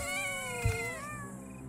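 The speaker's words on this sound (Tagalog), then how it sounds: "Ingay ng mga pusa ah." Cats yowl and caterwaul on a roof in a long wavering, rising and falling wail, close and fairly loud over steady background noise.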